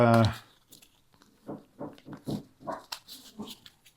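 Dogs at home bark and yelp excitedly at a package drop-off at the front door, a loud burst at the start followed by a run of shorter, quieter barks and whines.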